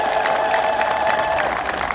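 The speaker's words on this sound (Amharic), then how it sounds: "እስቲ ኢትዮጵያ ታኮራለች ብላችሁ እስቲ አጨብጭቡ።" A congregation at an Ethiopian church sermon claps together in a brief, dense burst of applause, with crowd voices mixed in.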